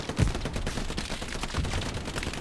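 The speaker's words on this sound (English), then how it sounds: "Is that the is that an MG there firing over?" A machine gun fires continuous rapid bursts in the WWII shooter Hell Let Loose, loud and dense, with scattered distant gunfire mixed in and no voices.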